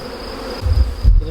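Honeybees at a newly set-up hive buzz in a dense, steady hum up close, with a couple of louder low swells as insects pass near; no voices.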